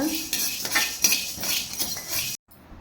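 Close scraping and clinking of a utensil stirring dry horse gram roasting in a pan, in quick repeated strokes, stopping abruptly near the end.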